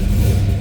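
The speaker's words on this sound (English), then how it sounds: "Let's go ahead and fire this up so you can hear it run." A big block 396 V8 in a 1969 Chevrolet Chevelle SS fires up from a cold start, giving a brief, loud, deep rumble that holds steady for under a second.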